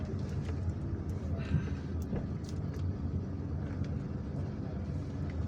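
A car drives through the streets of Algiers, with a steady engine and road rumble, light wind buffeting, and faint bird calls and traffic sounds in the background.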